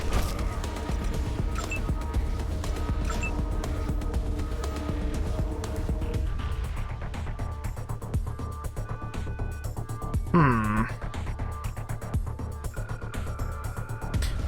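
Gunfire in the video game Wasteland 2 Director's Cut, with repeated sharp shots and bursts sounding over a sustained musical and ambient game background.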